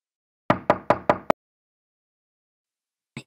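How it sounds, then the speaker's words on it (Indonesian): Four sharp knocks on a door in quick, even succession, then a short pause of silence before another brief rap begins at the very end; close and distinct, no voices. "Tiba-tiba suara ketukan pintu terdengar."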